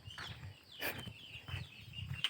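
Chickens and ducks on a farm call and cluck in short bursts at moderate distance, with a faint steady rural background and no talking.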